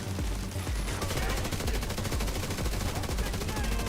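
Rapid gunfire in The Division 2 video game, a dense continuous rattle of shots with heavy low thuds throughout, loud and steady with no clear single grenade blast standing out.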